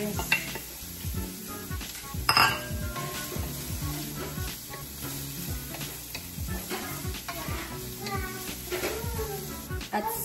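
Onions sizzle loudly in a pan while a utensil stirs and scrapes them, with rhythmic clinks against the metal and a bright clatter near the start, close up and without voices.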